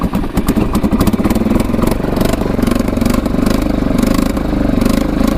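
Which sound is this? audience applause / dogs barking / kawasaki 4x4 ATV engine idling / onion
kawasaki 4x4 ATV engine idling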